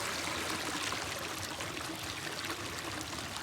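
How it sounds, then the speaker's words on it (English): Yosemite Creek, a stream about five feet across and ten inches deep, flows in a steady, close, broadband rush of water that continues without a break and with no voices. "Yosemite Creek, that's about 5 feet across from there to there, probably 10 inches deep."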